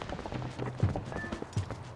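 Horse hooves gallop in The Legend of Zelda: Twilight Princess HD, a steady run of moderately loud clip-clop beats with a couple of heavier thuds, heard over faint game ambience.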